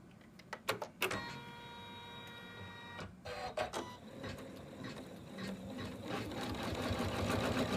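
An embroidery machine stitches a tortoise outline on hooped fabric, starting with a few sharp clicks and thumps before settling into a continuous, rapid mechanical chatter that grows slightly louder, with no talking.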